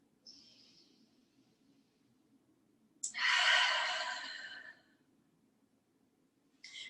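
Slow, deep breaths during a rib breathing exercise: a short soft breath near the start, then a long, loud, airy exhale that gradually fades, and another brief breath at the end, close and clear in a quiet room.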